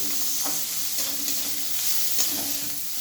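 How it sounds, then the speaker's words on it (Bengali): Ginger-garlic paste is stirred in a frying pan for a cabbage curry, heard as a continuous close sizzle with soft periodic scrapes and stirs from a utensil, and no voices. "1 চামচ আদা রসুনের পেস্ট দিলাম। এবারে ভালোভাবে আমি নাড়াচাড়া করে নিচ্ছি,"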